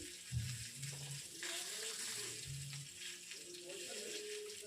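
Katla fish pieces frying in oil sizzle at a low level, with soft stirring noises. Murmured voices and low hums sit over the frying much of the time.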